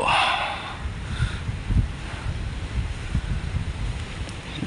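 Wind blows over a boat with outriggers at sea in the afternoon, a steady rushing buffet on the microphone with faint water and hull noise beneath.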